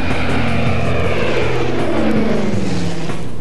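A DC-3 propeller cargo plane flies past with a loud, steady multi-engine drone whose pitch slowly falls, heard alone without any talking.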